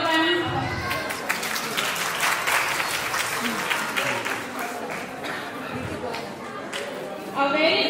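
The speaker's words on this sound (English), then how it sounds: "Please clap for them." Audience applause fills a preschool event hall, a sustained dense clatter of many hands clapping at steady loudness, with chatter and voices mixed underneath.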